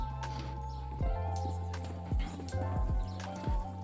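Horse hooves thud and clop across a course during a club-level hunter show jumping round, a handful of dull impacts heard at moderate distance over a steady background hum.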